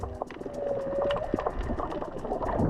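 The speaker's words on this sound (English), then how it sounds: "you can even hear the whales singing underwater from anywhere in the bay" Whale song carries underwater in a bay off Madagascar, a long rising tonal moan over a bed of clicks and crackling water noise, steady and moderately loud.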